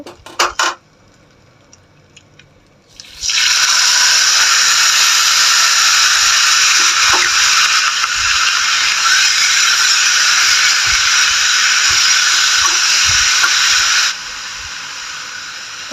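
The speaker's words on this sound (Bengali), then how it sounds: "সব কটা উপকরণ আমি এখন ভালো করে যে ভেজে নিচ্ছি" Banana flower ghonto ingredients start frying in a pan, a loud, steady hissing sizzle that surges in abruptly after a few quiet clinks and holds for about eleven seconds before easing off.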